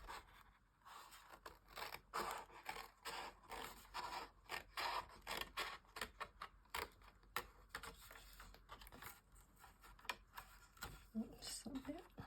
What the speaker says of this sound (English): Get the scissors in.